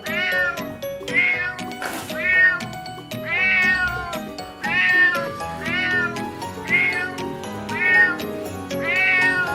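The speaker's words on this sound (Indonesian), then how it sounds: "Suara kucing." A cat meows repeatedly, about eight drawn-out, plaintive calls in a regular rhythm, close and clear with no voices.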